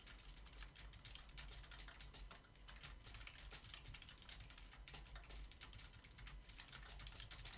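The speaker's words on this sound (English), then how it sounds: "Let me type something inside the chat." Fingers tap quickly and continuously on a computer keyboard, a dense patter of light clicks heard close but quiet, with no talking.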